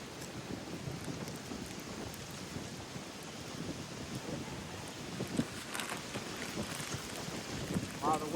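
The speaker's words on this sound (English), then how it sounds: "Wow, the winds are picking up." Strong wind roars steadily around a cold-weather campsite, a dense, continuous rush with faint flaps and knocks, heard up close without talk.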